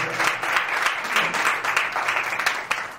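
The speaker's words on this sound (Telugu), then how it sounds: "చప్పట్లు గట్టిగా." A church congregation claps loudly for a few seconds during a Christian sermon, a dense, continuous burst of applause with no talking over it.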